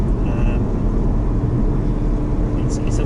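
Interior drive in a Porsche 981 GTS slowing down, a steady low engine and road rumble filling the cabin evenly, with someone talking over it.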